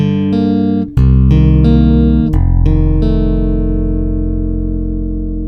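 Chapman Stick played through a Stickup pickup set to position 4, several bright plucked notes and chords with long sustain ringing out close and loud, no talking.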